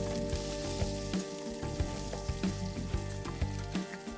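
Garlic and green chilli fry in oil in a home kitchen, a steady sizzle broken by soft spatula scrapes and knocks against the pan, moderately loud with no talking.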